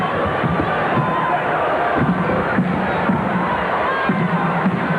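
Basketball crowd in a sold-out college arena, Selland Arena, during a UNLV–Fresno State game: a steady, loud roar of cheering and shouting that fills the space, with a commentator's voice talking over it.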